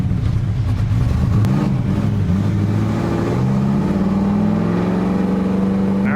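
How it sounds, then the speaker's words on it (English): An LS-swapped Mazda Miata being driven, its V8 engine loud and close, revving up with rising pitch and then holding a strong steady drone as the car accelerates, no voices. "we're driving with Ben's old Miata"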